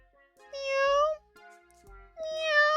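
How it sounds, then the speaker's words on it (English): A real cat meows twice in a quiet room, two drawn-out, rising cries separated by a short gap, fairly close and clear with faint low thumps beneath. "Oh my god, it's a cat! It's a real cat!"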